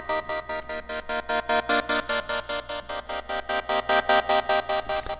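A gated synth pad made in FL Studio pulses in fast, even rhythmic chops of a bright sustained chord, about four per second, playing alone with no talk.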